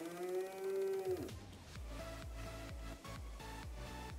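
A cow on a small farm in Lahaul and Spiti gives one long, close, tonal moo lasting about a second, followed by soft shuffling and rhythmic low thuds.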